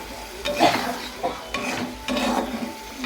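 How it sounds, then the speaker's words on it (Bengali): A little water poured into a hot pan of frying food sizzles in bursts, with utensil scraping and stirring clatter, close and moderately loud, no voices. "জলটা দিয়ে দিলাম, অল্পই জল দেবো"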